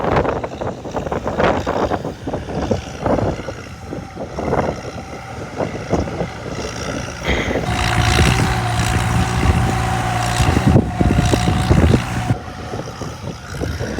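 An Oliver Super 66 tractor engine drones and strains steadily under heavy load pulling a disc harrow, with wind buffeting and rattling around it, close by.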